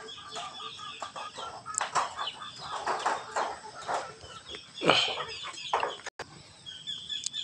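Several chickens cluck and squawk close by, with irregular calls and a few flaps of wings, over quiet outdoor background.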